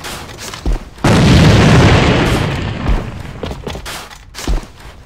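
A grenade blows up in an online first-person shooter, a loud booming blast that hits suddenly and rumbles for about two seconds before fading. Short thuds and game noise follow, with no talk.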